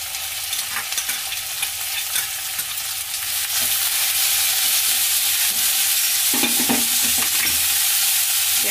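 Onion frying in mustard oil for palak paneer is stirred in the pan, producing a loud, close, steady hiss of sizzling with scraping stir sounds and occasional spatters, growing stronger partway through, with no speech.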